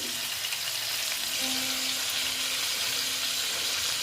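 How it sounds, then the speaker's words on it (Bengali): Steady, even sizzling of pointed gourd frying slowly in oil in a pan, a continuous close hiss with no voices. "সেই জন্যই আমি আস্তে আস্তে ভাজছি"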